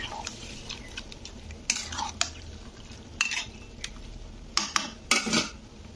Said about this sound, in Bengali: তো এবারে এটাকে একটু নাড়াচাড়া করে দিতে হবে।